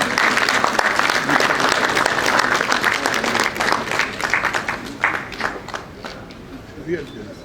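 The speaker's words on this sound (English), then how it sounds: "Please, round of applause for them." A room full of people applauds, a loud wash of clapping that thins out toward the end into a few scattered claps.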